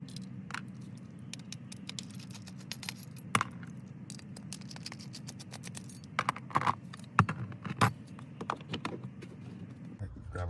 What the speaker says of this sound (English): now we're going to remove these 4 Phillips screws